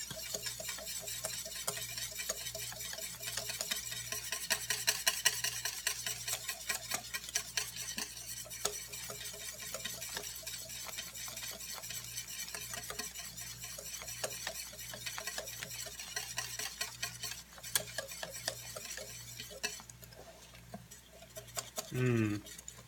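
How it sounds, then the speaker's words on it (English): Caramel sauce whisked in a pan, a continuous rapid metallic whisking close up with faint sizzling underneath, kept up steadily before a brief louder clatter near the end. "just keep whisking and whisking until it's smooth"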